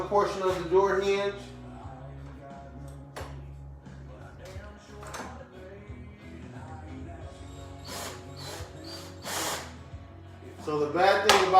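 A power driver whirs in brief bursts, driving screws into a door hinge at close range, with quieter handling noise and gaps in between.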